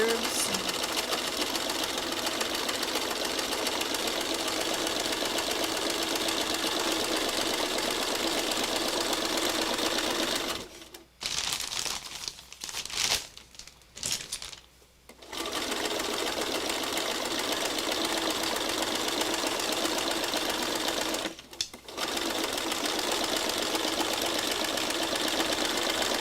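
A sewing machine stitching undulating curves runs in a long steady whir, stopping briefly a few times and restarting, fairly quiet, with someone talking over it at points.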